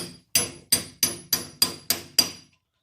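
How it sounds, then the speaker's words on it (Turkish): A socket is hammered to drive a bearing onto the new commutator of an electric drill. Eight sharp metallic blows land at a steady, even pace, each ringing briefly, then the striking stops. "rulmanımızı yeni kolektörün üzerine çakacağız"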